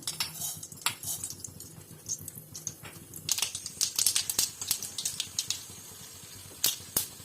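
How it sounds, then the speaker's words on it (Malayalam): Mustard seeds splutter in hot oil in a pan, making sharp, irregular crackling pops up close that grow denser and louder partway through, like rapid tapping. "കടുക് പൊട്ടിക്കഴിഞ്ഞു."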